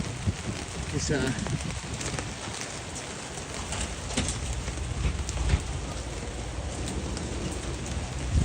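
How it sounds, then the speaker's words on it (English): Heavy rain pours steadily on a New York City street, a dense, continuous hiss of drops on pavement and surfaces, with a voice talking over it. "it is raining hard, bro"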